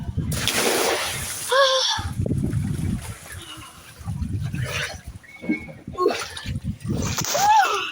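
A person jumps into salty sea water and lands with a loud, close, broadband splash early on. Sloshing follows, and voices talk and shout around it.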